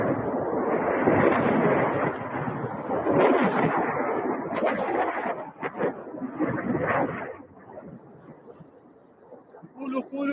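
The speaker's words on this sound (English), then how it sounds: "it sounds like maybe secondary explosions where things have been hit" Secondary explosions from strikes in Al Qaim district, western Iraq, rumble loud and heavy in overlapping bursts for about eight seconds, then fade into quieter scattered booms; a voice talks over parts of it.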